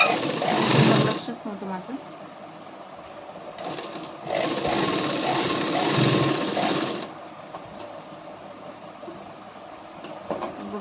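A sewing machine stitches a katori blouse, joining the sleeve in two loud, rapid whirring bursts, one short and one longer, with someone speaking in between.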